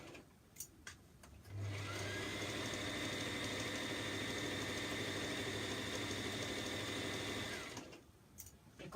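A sewing machine runs a steady mechanical whir for about six seconds while back stitching a half-inch seam on a top. Quiet handling noises come before and after.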